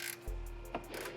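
A wrench cracks loose a 17 mm control arm bolt on a Honda S2000 front suspension: one sharp, close metallic snap, then a brief ratcheting rasp and a second short click, quiet and with no talk.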